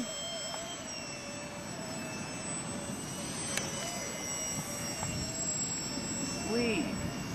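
A Pitts R/C model biplane flies over Santa Cruz Beach, California, its thin high engine whine droning steadily at a distance beneath a broad wash of wind and surf noise.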